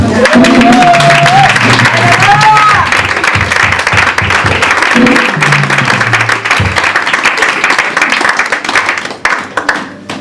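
A church congregation applauds in sustained, dense clapping with some cheering, loud and close throughout, while sustained musical tones sound underneath early on and the clapping thins slightly toward the end.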